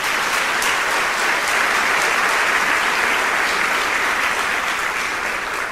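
A church congregation claps loudly and continuously, a thick, sustained roar of many hands with no voices standing out.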